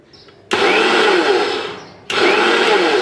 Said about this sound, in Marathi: मिक्सर मला फिरवून घेते आहे।